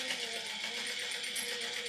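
Domestic sewing machine running steadily while stitching around the edge of a fabric hat brim, a continuous close whir with no pauses over a short stretch.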